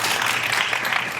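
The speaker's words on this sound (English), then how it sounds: "You were going to clap for David? You should if you want" An audience at a panel discussion on campaigns and millennials claps steadily for a speaker named David, a dense, even patter of applause heard alone.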